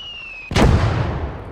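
A mortar round explodes in the World War II strategy game Call to Arms: Gates of Hell: a high tone cuts off as a sudden loud blast hits, then a deep rumbling boom rolls on and slowly decays.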